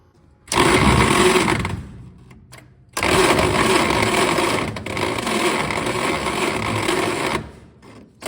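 Starter motor cranking the engine of a 1934 Plymouth coupe: a loud, steady mechanical whir that runs about a second, pauses, then grinds on continuously for over four more seconds before stopping, with no talk.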